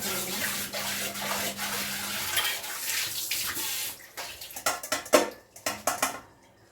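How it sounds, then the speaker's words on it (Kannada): Water runs from a tap while a pot is scrubbed and clanked, then the flow stops and a series of sharp metallic knocks and splashes follows. "ತೊಳೆದ್ಬಿಟ್ಟು ಇದೇ ಪಾತ್ರೆಗೆ ಹಾಕೋಬಿಡೋಣ"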